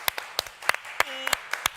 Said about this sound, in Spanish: Un fuerte aplauso para Carlos Páez.